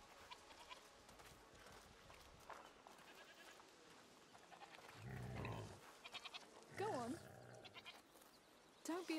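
A goat bleats in the video game A Plague Tale Requiem, several wavering cries heard up close under and between quiet talk.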